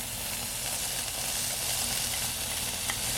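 Green onion sizzling in a hot pan with browned king oyster mushrooms, a dense, steady hiss of frying oil that stays even and close throughout.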